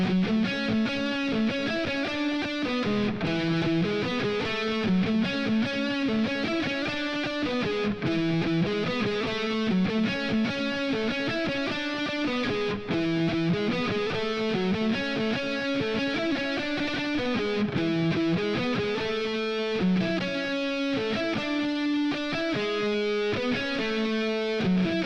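A distorted electric guitar plays a busy harmony section, steady driving notes running continuously at moderate volume with no talking.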